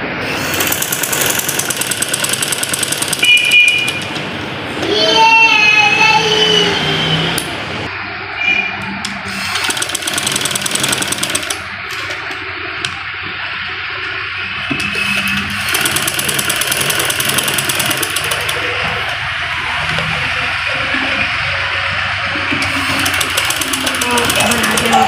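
Sewing machine stitching trouser fabric in a rapid mechanical chatter, running in several bursts with pauses, with someone speaking in between.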